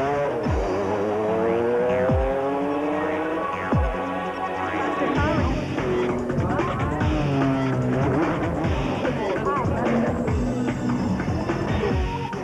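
Race cars at the 2004 24 Hours of Spa-Francorchamps in Belgium roar steadily and loudly, with several engine passes sweeping up and down in pitch over a continuous throbbing drone, no talk.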